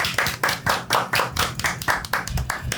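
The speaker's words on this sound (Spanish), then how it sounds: "Un aplauso para nuestro agrimensor del día de hoy." Sparse clapping from a small audience greeting a surveyor at a talk, each clap sharp and distinct in an uneven rhythm, fairly close, with no voices over it.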